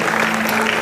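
Audience applause at a live awards event, a dense burst of steady clapping heard up close and alone.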